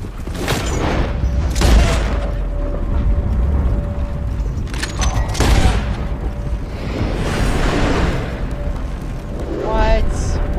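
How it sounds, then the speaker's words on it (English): Gunshots in the video game Red Dead Redemption 2, heavy booming blasts spaced through a dense, loud game soundscape with bursts of rumbling noise. "I will shoot him. We're gonna shoot him."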